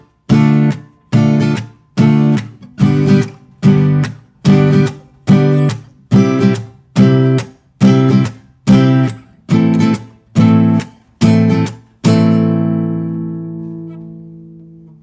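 Guitar playing the verse chords of a song: fourteen or so even, punchy strummed strokes with short gaps, ending on a final chord left ringing, close and alone with no talking.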